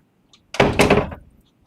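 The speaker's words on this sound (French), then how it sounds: "Mais pourquoi tu fermes la porte comme ça?" An indoor door shut forcefully in one heavy, loud slam with a brief rattle and thud as it settles, followed by silence.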